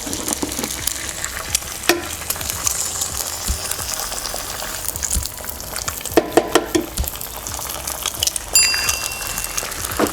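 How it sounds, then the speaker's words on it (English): Three eggs fry in oil in a pan for egg fried rice, a loud, steady sizzle and crackle with occasional scraping stirs and clinks of a utensil against the pan. "just going to cook this egg, just toast a little bit."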